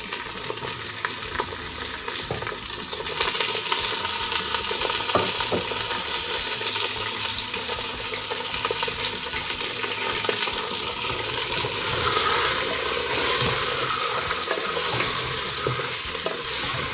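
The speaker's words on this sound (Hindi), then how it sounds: "मटन को डाल के हम अच्छी तरह से भून लेंगे" Mutton with whole spices fries and is stirred in a pot, a steady loud sizzle running throughout with scraping stirs and occasional light clinks, no voices.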